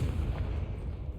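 A Confringo fire spell explodes in Hogwarts Legacy, heard as a brief, muffled, rumbling boom that stays fairly quiet and low throughout.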